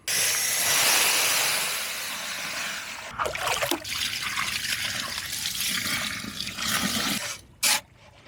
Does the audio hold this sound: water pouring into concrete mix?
yes